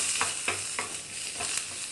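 Onion frying in oil in a pan for misal pav, a steady sizzle with rhythmic scraping strokes of a spoon stirring every quarter second or so, close and moderately loud.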